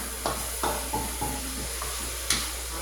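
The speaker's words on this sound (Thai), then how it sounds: "เลือดผัดให้หอมก่อนนะคะ" Chicken blood being stir-fried in a wok for a bean sprout dish, a soft steady sizzle broken by about six sharp spatula scrapes and clanks against the pan, close and alone.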